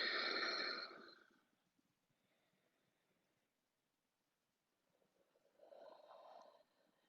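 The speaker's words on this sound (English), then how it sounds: "Deeper breaths." A deep, slow breath during a quiet yoga session: a strong, close exhale that fades within a second or two, then near silence, then a softer breath starting again toward the end.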